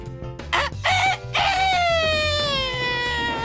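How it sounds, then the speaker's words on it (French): A rooster crows at full lung in a French children's tale, a long, loud, drawn-out call that slowly falls in pitch after a few short sharp bursts. "le coq se mit à chanter à plein poumon"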